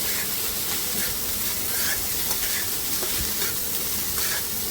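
Egg fried rice with garam masala being stirred in a hot pan, giving a steady, close sizzle and hiss with faint scraping from the stirring throughout.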